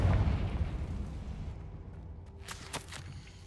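A Confringo blasting spell explodes in the Hogwarts Legacy video game, a loud low booming burst that rumbles and fades, followed by a few lighter crackles.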